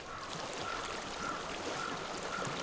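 Steady flowing water in Hellblade: Senua's Sacrifice makes a continuous broadband rush with a soft gurgling texture. It stays even and fairly loud throughout, with no voices.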